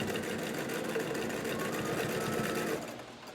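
A sewing machine stitches a tuck into a fabric mask, backstitching, a fast steady mechanical whir that runs evenly for a few seconds, close and moderately quiet, then stops.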